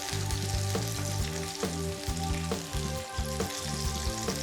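Tofu coated in potato starch and rice flour frying in oil until golden, a steady crackling sizzle heard alongside a regular low rhythmic tonal pattern, likely background music, with no voices.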